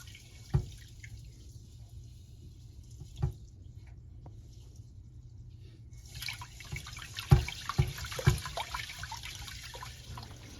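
Hands swishing sushi rice through water in a bowl, with soft sloshing and a few sharper splashy knocks, quiet at first and busier with faster washing toward the end.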